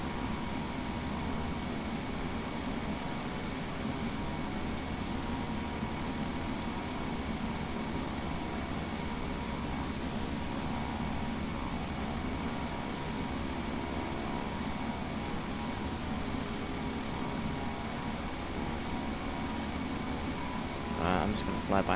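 A fixed-wing airplane in Microsoft Flight Simulator X drones steadily with engine noise throughout as it circles toward a runway, holding an even level from start to finish, with a brief click near the end.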